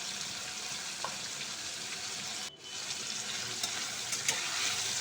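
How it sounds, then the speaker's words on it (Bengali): Vegetables with a little turmeric lightly frying in a pan for vegetable khichuri, a soft, even sizzle and hiss held throughout at low level, briefly dipping once midway. "দিয়ে সবজিগুলোকে একটু হালকা করে ভেজে নেব"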